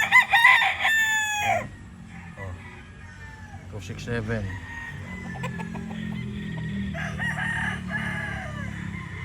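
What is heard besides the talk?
rooster crowing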